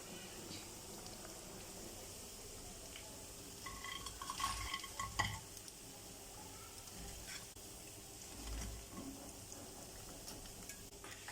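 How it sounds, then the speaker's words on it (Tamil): Beef bajji fry in hot oil with a faint, steady bubbling sizzle. A few soft utensil stirs and clinks rise briefly in the middle. "ஆயிலில் எல்லா பஜ்ஜும் அதே மாதிரி போட்டு எடுத்துக்கலாம்"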